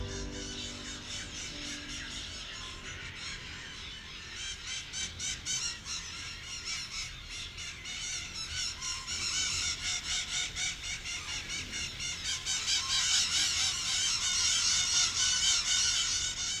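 A large flock of over 2,000 parakeets squawks around Masaya volcano's craters in dense, overlapping bursts, growing louder and busier over time, with no talking.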